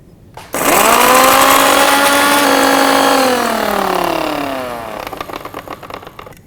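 A mixer grinder blending green chili, cumin and dry ginger powder into a paste: the motor starts abruptly with a loud whine, holds steady for several seconds, then winds down in falling pitch before a few rattling knocks.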